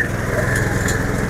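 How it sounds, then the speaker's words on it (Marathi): A 7 HP grass shredding machine runs steadily at close range, its engine giving a continuous, even buzzing drone with no pauses and no voices. "तर हे 7 HP मशीन आहे."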